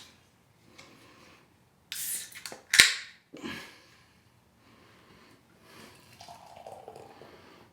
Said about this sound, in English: Let's open it up. Let's get it out of the can and into a glass.